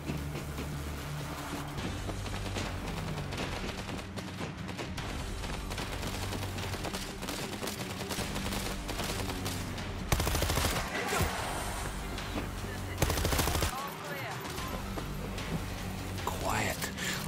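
Rapid gunfire from guns in the video game World War Z, dense bursts of shots running almost continuously with louder bangs and a busy game mix, while players talk over it.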